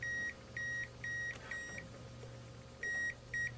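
Short, high electronic beeps from a True RMS digital multimeter's voltage sensor repeat in a quick steady pattern, pause, then return twice more over a low steady hum.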